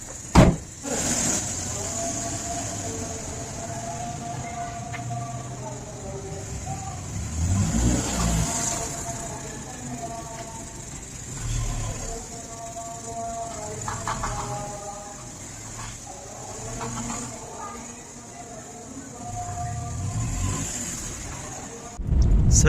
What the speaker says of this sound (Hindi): ये असलम साहब अब गाड़ी गर्म करने लगे हैं